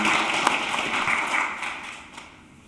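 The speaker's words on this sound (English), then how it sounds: "let's all give a warm round of applause to Vaughn Andrews" An audience at an accounting forum applauds a guest speaker, a steady wash of clapping that gradually fades away over a couple of seconds.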